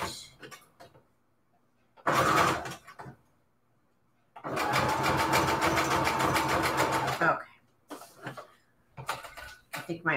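A home sewing machine stitches a Christmas jar embellishment in two runs, one short burst and one steady three-second whir, with a faulty bobbin; quieter clicks and handling sounds fill the gaps.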